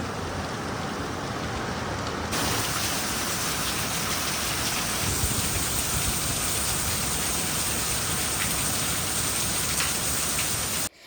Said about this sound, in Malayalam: മഴ നല്ലോണം തകർത്ത് പെയ്തുകൊണ്ടിരിക്കുകയാണ്